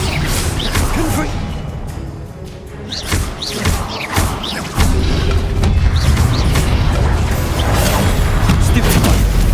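Confringo blasting curse cast in Hogwarts Legacy, a loud whooshing burst followed by deep booming impacts and crashing debris, dense and continuous battle noise with a brief dip before the blast.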